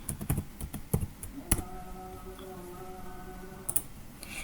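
Computer keyboard keys clack as a MySQL command is typed, a quick cluster of sharp taps, then a pause with a faint hum, then a couple more keystrokes, close and fairly quiet.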